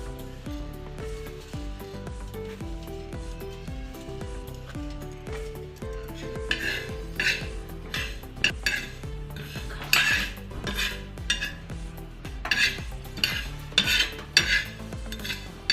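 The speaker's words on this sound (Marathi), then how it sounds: "जिऱ्याला भाजून घेऊ आता आपण" Metal utensil scraping and clinking against a pan as cumin seeds are dry-roasted, rhythmic stirring strokes that grow louder and busier toward the end, no talk.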